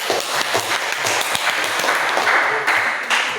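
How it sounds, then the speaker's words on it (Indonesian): Applause from a classroom audience of students, a dense patter of hand claps spread across the room at moderate level, steady throughout with no talking. "silakan kita berikan aplaus"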